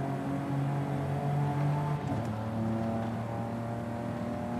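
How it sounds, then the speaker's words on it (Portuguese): A Volvo V60 Polestar engine roars in a PC driving game, a steady throaty drone with shifting pitch as the car accelerates through traffic, constant and loud throughout. "Esse ronco do motor é muito massa."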